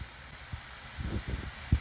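Pork ribs frying in a medium pot without oil, a low steady hiss with soft crackles and a few louder pops, heard alone.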